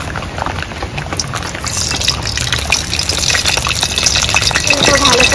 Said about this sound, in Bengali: ভাজার জন্য কড়াইয়ে তেল দিয়ে দেব।